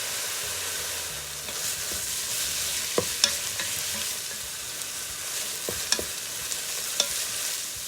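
Butter melts and sizzles among browned sausage in a Ninja Foodi pot, a steady bright fry hiss broken by occasional scrapes and clinks of a stirring utensil against the pot, close and without talk.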